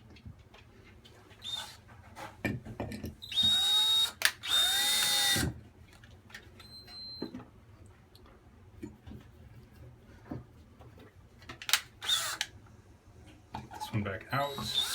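A power drill driving a screw into drywall while repairing a pulled-out towel bar: several short whirring bursts close by, with a dog barking and a person speaking between them.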